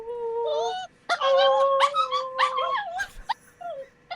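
Pug dogs whimper and yip close by in a rapid string of high, wavering whines and short yelps that rise and fall, with brief pauses between bursts.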